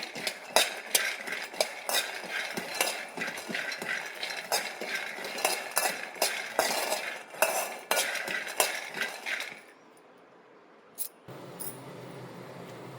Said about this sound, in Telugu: ఒక కప్పు పల్లీలు అయితే తీసుకొని స్టవ్ వెలిగించేస్తే పల్లీలు అయితే వేయించుకున్నానండి.